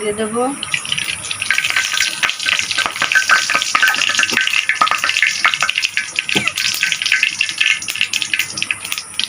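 Oil frying and sizzling in a wok on a home stove while cooking a shrimp and leaf paste dish, a steady crackling hiss with stirring and scraping throughout, loud and close with no talk.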